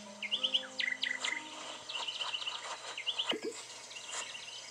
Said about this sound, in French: Maintenant, essayez d'attraper l'oiseau. Suivez-le en marchant après lui.